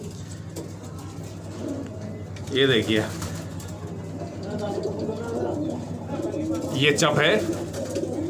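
Hyderabadi pigeons coo in low, soft bursts among a mixed flock, with bird calls rising twice over steady background noise while someone speaks nearby.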